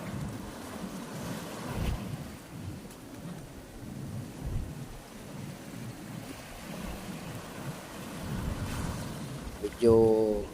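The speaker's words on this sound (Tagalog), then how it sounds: "Medyo malakas ang hangin dito mga kababayan, kaya yung mga alon na nakikita yung namumuti na yan, yan po yung malakas na alon." Strong wind and whitecapped waves roll onto a beach at Brgy. Tambungon, making a steady, loud roar with gusty rumbling throughout and a brief tonal sound near the end.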